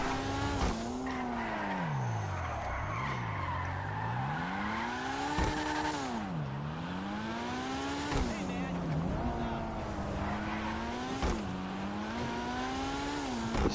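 Car tires squealing and skidding through a drift in GTA Online, the engine note swooping up and down over a front-wheel-drive car with heavy understeer; loud and continuous, with a voice talking over it.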